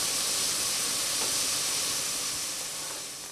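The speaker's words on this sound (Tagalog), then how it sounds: "heto na yung ating pickling solution. At kumukulo na siya." Steady broadband hiss and bubbling of a boiling pickling solution for pickled bamboo shoots, continuous and close, fading slightly at the end.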